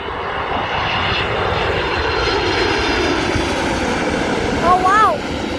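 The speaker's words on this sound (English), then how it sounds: "The United plane with the Starline delivery came back" United Airlines airplane passing overhead at Dulles Airport, a loud sustained jet engine roar that swells slightly near the end, with a brief high voice over it.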